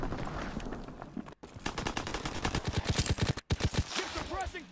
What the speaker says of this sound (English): Keep suppressing fire.